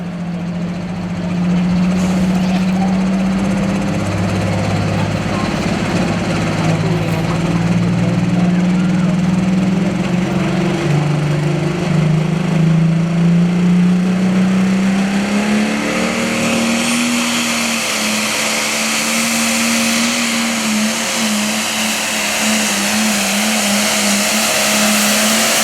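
A Case super farm pulling tractor named Extreme Pressure roars through a county fair pull, its engine a loud sustained drone that climbs and shifts in pitch as it strains down the track.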